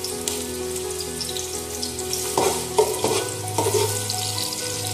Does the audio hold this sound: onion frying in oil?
yes